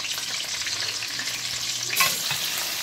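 Cumin, green chilies, ginger and garlic fry in hot oil for tomato pachadi, a close, steady crackling sizzle with a brief louder burst of spitting near the end.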